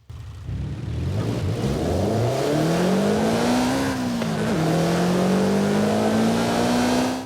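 A Toyota GR86's 2.4-litre engine in Forza Horizon 5 starts and revs up steadily, its pitch climbing through gears, then settles into a loud sustained drone, close and alone.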